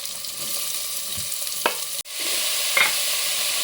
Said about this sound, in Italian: Il cumino sta cominciando a soffriggere dentro la cipolla